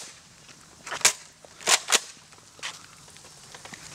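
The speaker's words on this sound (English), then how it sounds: "So keep shooting, Mitch, and you guys walk over" Nerf blasters fire in a few sharp, snappy pops spread irregularly over several seconds, close and fairly loud, with faint shuffling footsteps between the shots.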